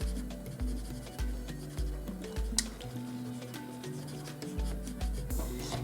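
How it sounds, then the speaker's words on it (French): A bread crumb rubbed quickly over paper to erase a drawing makes a close, rhythmic scrubbing, with repeated back-and-forth strokes about every half second. "on gomme avec une mie de pain très rapidement"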